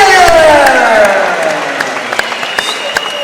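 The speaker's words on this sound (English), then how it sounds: "please a big round of applause for Kilian Pita" A crowd applauds and cheers at an amateur MMA event after a first-round stoppage win. The noise swells loudly at first, then thins into scattered claps, with an announcer's voice carrying over it.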